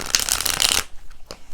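Light Seers Tarot cards are shuffled by hand: a dense, riffling burst close up, then a brief pause and a couple of faint card taps.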